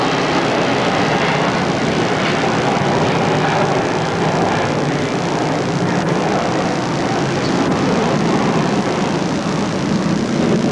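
An airplane climbing out of LaGuardia roars over the 1978 US Open tennis final, a loud, continuous engine rumble that holds steady throughout.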